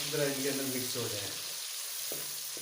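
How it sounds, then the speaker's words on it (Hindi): Onions browning in a pan for chicken pota, a steady soft sizzle of frying heard up close beneath a voice speaking at the start. "तो पहले हम लोग इसको प्याज को ब्राउन कर लेते हैं।"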